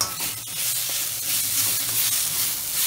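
Aloo do pyaza sabzi frying in a pan makes a close, steady sizzle and hiss, with faint stirring sounds underneath and no voices.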